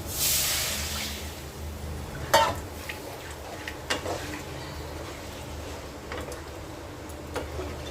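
Water splashes onto fried potatoes in a hot pan, giving a brief loud hiss at the start, then a low simmering fizz with a few clicks and taps of utensils.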